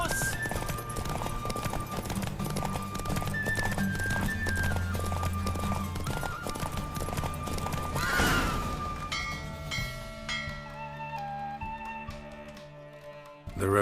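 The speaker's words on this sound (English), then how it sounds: "Don't spare the horse." Galloping horse in a race in The Witcher 3: Wild Hunt, rapid rhythmic hoofbeats with a whinny, set against game music and a swelling burst of effects before the pace eases.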